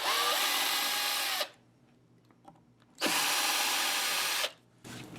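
A power drill drives screws out of a Leo Jaymz Strat PK electric guitar in two loud whirring runs of about a second and a half each, with a quiet gap between them and a third run starting at the end.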